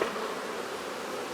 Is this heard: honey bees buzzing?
yes